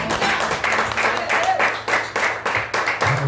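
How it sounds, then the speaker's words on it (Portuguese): Congregation applauding during a Portuguese-language church service, a steady wash of many hands clapping with a low hum underneath and some voices mixed in. "Dê-lhe aplauso a Deus em nome de Jesus."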